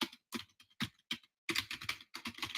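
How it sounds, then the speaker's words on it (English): Computer keyboard keys typed in short separated bursts, then a fast dense run of clicks, close and crisp, with no voices. "typing his email address there to Ron inside our live trading room chat"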